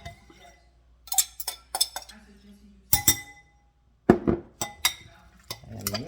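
Creamy homemade cucumber side salad tossed with fresh dressing in a bowl, giving sharp utensil clinks and knocks against the dish in irregular bursts, with quiet gaps between them.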